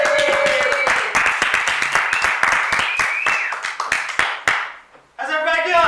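Comedy showcase audience in San Jose applauding comedian Johnny Corn: dense, loud clapping with whoops, thinning out before a voice cuts in at the end.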